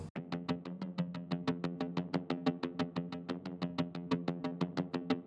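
Synth arpeggio in an electronic track: quiet, rapid, evenly spaced plucked notes in a steady repeating pattern, alone.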